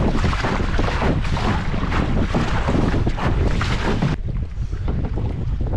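Strong gusts buffet the microphone while a canoe is paddled across choppy water, a loud, steady roar of wind and splashing that drops away abruptly near the end.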